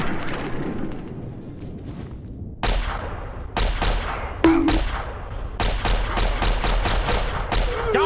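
Gunfire in Fallout 3 on Xbox, with bursts of shots and heavy booms arriving in clusters, loud and close, continuing over a steady game background.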